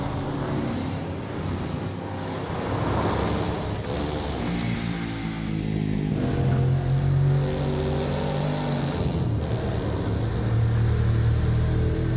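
Off-road vehicle engine from The Crew 2 racing game, a steady, loud droning rumble that rises and revs over twelve seconds, alone with no talk, with a washing, rushing layer over it.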